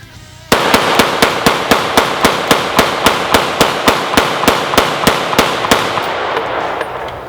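Century C308 rifle firing a steady string of about eighteen loud, evenly spaced shots in rapid succession, each a sharp crack with a short ringing tail, continuing without pause.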